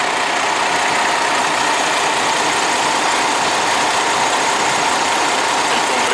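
Isuzu diesel engine of 15,681 cc idling steadily in a Chevrolet LV452 bus chassis with air suspension, a continuous loud broadband rumble with no voices.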